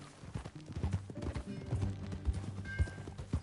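Horse hooves clip-clop steadily in a game, with a galloping rhythm of thuds over background music and occasional voices.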